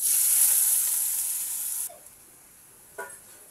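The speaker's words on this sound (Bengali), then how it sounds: "আলুটা এখন আমি ভেজে নিচ্ছি।" Potatoes frying in leftover oil in a wok, a loud steady sizzle for about two seconds that then cuts away to near quiet, with one brief sharp crackle afterward.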